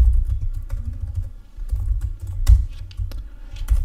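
Close, steady clatter of keys on a computer keyboard, typed in quick bursts with brief pauses between runs and no voices.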